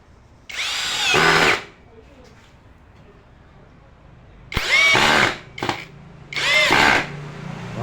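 A power drill set to maximum speed and torque drives a 2-inch screw in three loud whirring bursts, the first longer and the later two with a brief stutter between them, with quiet pauses between.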